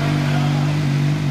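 A CF Moto 500 SR motorcycle engine runs loud and close, holding a steady, throbbing drone for the whole short stretch.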